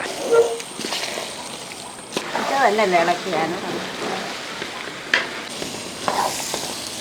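Beef pickle being mixed and stirred in a pan gives steady scraping and stirring with a soft sizzle, moderately close, with brief louder scrapes between passes. Some background voice sounds blend in.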